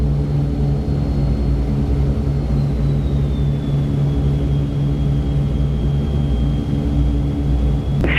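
A World War II B-29 Superfortress bomber's piston engines thunder steadily during its takeoff climb, a loud, constant low rumble with a faint high tone drifting downward.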